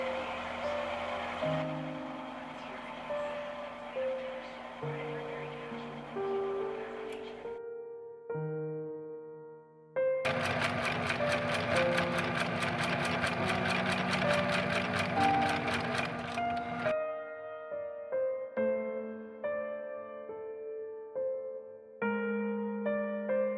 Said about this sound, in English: then I'm going to sew up the lining separately and then the fashion fabric separately, both of them on my machine